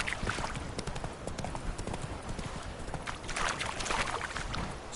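Roach, the horse in The Witcher 3, gallops steadily, its hoofbeats close and continuous throughout with a faint rushing sound behind them.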